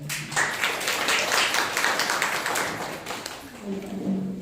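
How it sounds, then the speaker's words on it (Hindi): Church congregation at a Sunday morning service breaks into steady, dense applause that fills the room, loud and sustained before tapering off near the end. "आइए परमेश्वर के लिए जोरदार तालियां"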